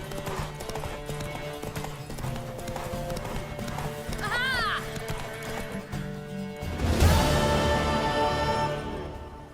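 Rapid hoofbeats clatter at a gallop in The Witcher 3, with a horse whinnying partway through, set among music and game sound effects.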